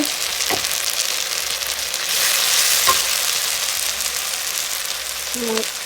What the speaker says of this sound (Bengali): মশলা দিয়ে আমি সুন্দর মতো কষায় নিচ্ছি তেলের মধ্যে দিয়ে